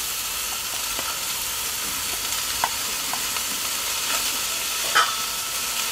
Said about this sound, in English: And we're going to give them a good sear as well.